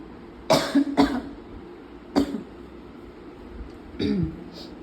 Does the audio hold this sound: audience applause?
no